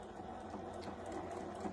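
A sewing machine topstitches along the edge of a duffle bag seam, a steady continuous mechanical whir that runs unbroken and fairly even in level throughout, with no voices.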